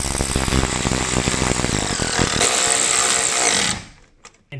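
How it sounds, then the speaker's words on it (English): Power tool driving suspension screws on a 2012 Acura TSX, a loud continuous whirring drive that strains and rises in pitch, then cuts off abruptly, leaving near silence with a small clink. "we're going to go ahead and get them screwed in a little more"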